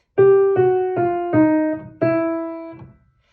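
Piano notes are struck one after another in a short descending phrase, each ringing clearly, with the last note held and fading out.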